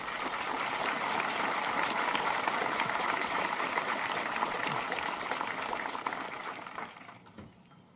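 Sustained applause from a high school graduation crowd honoring teachers, dense steady clapping that fills the space and then thins and fades over the final second or two.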